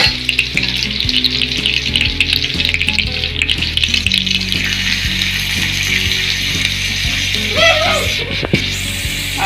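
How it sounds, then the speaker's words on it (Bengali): Chopped onions drop into hot oil in the middle of a pan of lightly fried potatoes, giving a loud, steady sizzle with clinks and scraping from stirring throughout. "আলুগুলো কিছু সরিয়ে দিয়ে মাঝখানে তেলটার মধ্যে এবার মা পেঁয়াজ কুচুগুলো দিয়ে দেবে"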